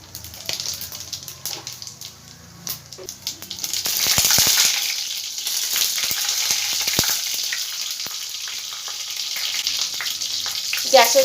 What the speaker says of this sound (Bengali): ফোড়নে আমি 2টো তেজপাতা দিলাম, 2টো শুকনো লঙ্কা আমি মধ্যিখান দিয়ে ফেড়ে আমি দিয়ে দিলাম, আর দেব 1/2 চামচ সাদা জিরে